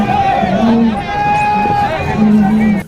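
A festival crowd at Dhalpur in Kullu chanting and cheering for Lord Raghunath: a loud, continuous mass of voices with sustained calls and a rising, falling roar throughout.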